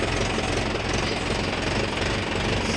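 A tractor engine runs steadily on a farm, giving a loud, close, continuous chugging drone with a rough, knocking pulse throughout.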